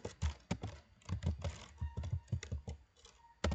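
A command is typed on a computer keyboard at a PC, a quick irregular run of close, crisp key clicks with a few short pauses and a final sharp keystroke.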